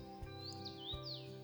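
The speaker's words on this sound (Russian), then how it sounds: "Птицы в лесу были очень щедры на разговор" Birds chirp and sing in a forest beside a river trail, several bright tweeting calls rising and falling over a low steady hum, fairly close and alone without talk.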